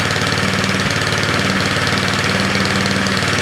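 A Craftsman 24 snowblower engine with its governor bypassed runs loud and steady, a continuous close mechanical drone with a slightly knocking, uneven pulse and no voices.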